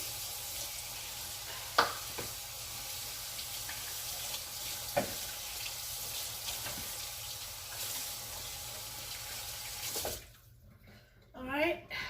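Water runs steadily from a kitchen sink tap while a pot is rinsed out, a broadband wash with a few clinks, ending in a quieter stretch with brief handling sounds.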